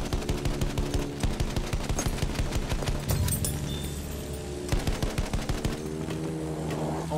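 Gunfire in Battlefield 1 in the Sinai desert, with rapid machine-gun bursts and single shots crackling in repeated volleys over rumbling battlefield ambience, loud and close.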